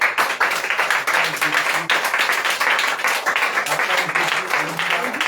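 A congregation at a church revival service in Burkina Faso applauds and acclaims Jesus. The clapping is loud and energetic, with rhythmic bursts and some voices mixed in throughout.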